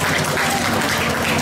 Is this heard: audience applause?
yes